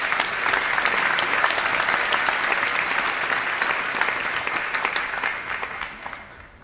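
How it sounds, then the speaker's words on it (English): Sustained applause from a large crowd at a graduation conferring ceremony, steady and dense clapping throughout before tapering off slightly at the end. "And a round of applause for our Business in Marketing graduates."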